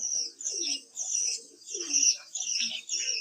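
A white Bombay pigeon coos in a series of soft, rounded calls, several phrases in steady rhythm, close and clear with no talking.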